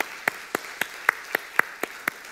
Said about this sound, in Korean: 우리 중고등학생 지금 굉장히 부담되는가 본데 박수 한번 하시죠